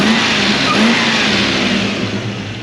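A Range Rover Classic engine runs steadily while warming up, a loud, close, continuous mid-pitched rumble with a slight waver and no speech.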